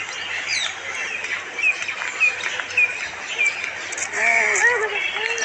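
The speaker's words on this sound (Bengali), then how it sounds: "কত টিয়া পাখি ভিতরে টিয়া পাখি আছে পায়রা রয়েছে" Caged parakeets and pigeons call on the way to Prinsep Ghat, with repeated short chirps and tweets that grow busier toward the end, while people talk nearby.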